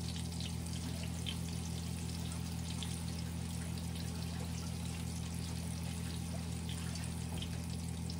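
Hands are washed under a running kitchen tap, making a soft, continuous stream of pouring water over a constant low electrical hum. There is no speech.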